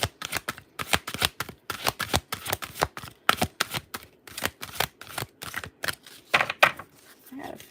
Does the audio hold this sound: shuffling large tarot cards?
yes